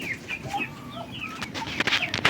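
Free-range chickens are fed a mix of commercial feed and coconut pulp, and many birds cluck and chirp at once, close and fairly loud, with a few flapping and scuffling sounds toward the end.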